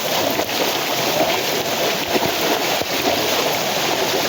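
Heavy rain and floodwater surge through a village in Una taluka, Gujarat, a steady loud rushing wash with no breaks and no voices.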